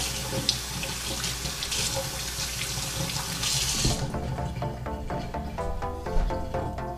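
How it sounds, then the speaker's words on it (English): Freshly dug razor clams rinsed under a running faucet: a steady close stream of tap water splashing in a sink, then shifting to a lighter trickle with small clinks and knocks as the shells are handled. "so I'm gonna rinse these off real quick."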